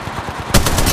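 Loud rapid automatic gunfire in the mobile shooter game Apex Legends Mobile, a fast rattling burst of shots kicking in halfway through over steady game noise.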